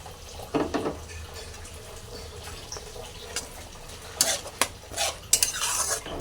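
A ginger, garlic, tomato and dried-chilli spice paste for prawn malai curry is stirred and fried in a pan. Quiet scraping strokes come in short bursts over a faint sizzle.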